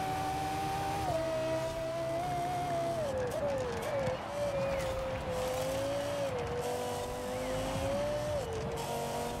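A Lexus LFA, lightened to about 1.3 tonnes, cornering in Forza Horizon 4, its engine holding a steady high whine that dips and climbs through the bends, loud and continuous.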